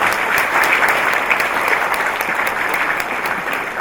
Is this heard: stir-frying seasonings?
no